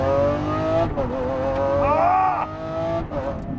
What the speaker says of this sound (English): I am driving a 2020 Lamborghini SVJ. This car, watch this.